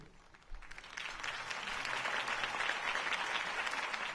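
Crowd applause following a campaign speech, clapping swelling in after a quiet moment and holding steady at a moderate distance, with no voices over it.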